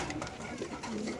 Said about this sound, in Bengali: এখানে আছে এক পিস কবুতর